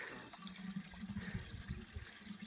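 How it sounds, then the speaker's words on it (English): Water being poured from one container into clay pitchers during a drought, a steady splashing and trickling close by with no talk. "now we are shifting this water to the pitchers"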